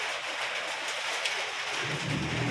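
Steady rain patters hard on a metal roof, a dense, continuous hiss of drops with no voices.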